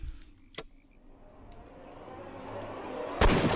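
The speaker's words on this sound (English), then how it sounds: "by the way, shoot this dude." A single sharp gunshot in a detective video game, a loud broadband crack near the end following a fainter earlier click, over a rising low background rumble.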